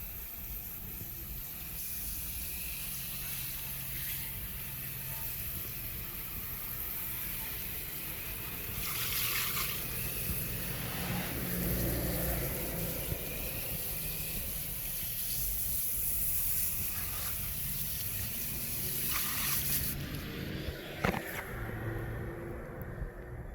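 A steady hiss of water spray rinsing a ceramic coated car wheel, constant and moderately close, with brief bursts where the spray hits harder and a low rumble underneath.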